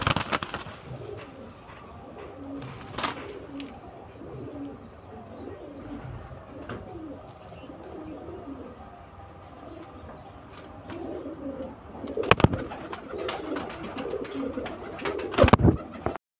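Pigeons kept in a cage at a home loft coo in repeated low, soft phrases throughout, with a few louder rustling bursts near the end.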